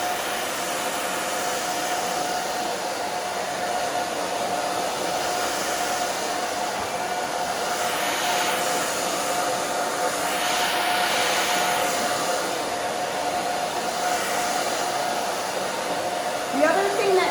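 A hair dryer blows steadily on the back of a growing-out pixie cut, and the airflow rises and falls slightly as it moves. The hum stays close and continuous throughout.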